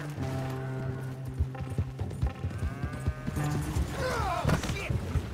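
Horse hooves clip-clopping in Red Dead Redemption 2, an irregular run of soft thuds under a low engine-like drone, with people speaking over the later part.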